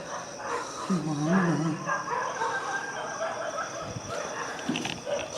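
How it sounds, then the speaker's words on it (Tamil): Several dogs barking and yelping from a distance around a rural spot at night, overlapping irregular barks spread through the stretch, fairly faint against a steady background hiss. "எவ்வளோ நாய்ங்க கத்துது பாரு."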